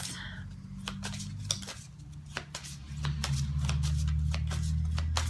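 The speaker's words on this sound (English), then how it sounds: "I'll just give these a shuffle" Crisp, rapid riffling of a deck of cards being shuffled, several quick bursts of snapping and flapping, close up over a low background hum.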